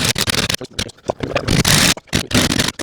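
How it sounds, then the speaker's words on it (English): Nippers chew through the sheet-metal roof of a Dodge ProMaster van to cut a vent hole, giving loud, close, irregular metallic crunches and scrapes. "So here's how it looks using the nippers."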